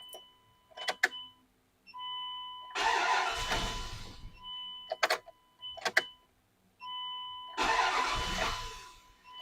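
A Dodge Dakota truck engine cranks in short bursts, then catches and runs briefly twice, after its fuel pump assembly was replaced; close, mid-pitched starter whine and engine roar with pauses between attempts.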